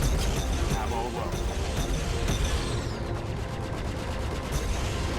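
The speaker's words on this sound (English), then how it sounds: "Alright, now I'm getting shot at a little bit." Rapid incoming gunfire in the Star Citizen space-combat game, dense crackling bursts over a continuous loud background of ship noise.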